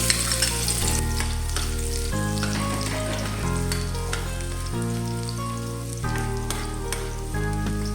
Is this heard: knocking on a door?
no